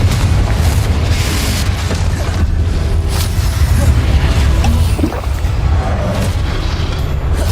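Confringo explosive spell blasts in Hogwarts Legacy gameplay, loud continuous booming and crashing combat noise with dense, sustained impact rumble throughout.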